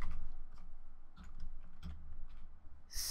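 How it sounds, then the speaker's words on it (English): Keys clatter in a short, uneven run of typing on a computer keyboard, close and moderately quiet, with a brighter burst of clicks right at the end. "Let's type in @SteveCarts."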